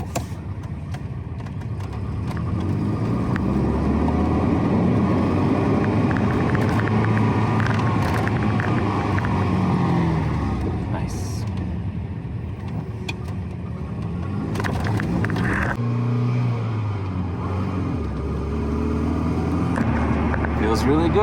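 A 1988 Volvo 240 with a five-speed manual driving on the road, giving a steady engine rumble and road noise heard from inside the cabin, continuous and fairly loud, with a brief dip mid-drive.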